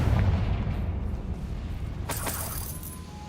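A Confringo blasting spell goes off in the Hogwarts Legacy video game, a heavy low explosive boom at the start that rumbles on, followed by sharper crackling bursts of debris near the end.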